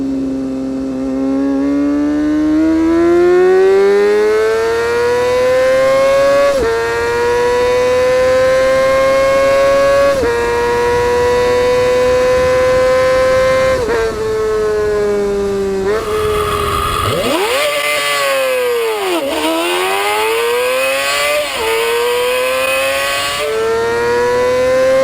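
A superbike engine revs hard and loud, climbing repeatedly through high rising and falling pitches with sharp throttle blips, then drops and climbs again with a screaming high-rpm wail near the end.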